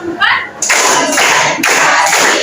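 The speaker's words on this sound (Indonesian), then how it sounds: "Tepuk 1. Tepuk 2. Tepuk 3. Tepuk 4." A group claps hands in a counted rhythm during a classroom coaching session, sharp bursts of clapping repeated in even beats, loud and close, with voices counting between them.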